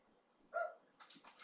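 A dog lets out one short, sharp bark followed by a few quick higher yips and whimpers, fairly close and isolated against a quiet room.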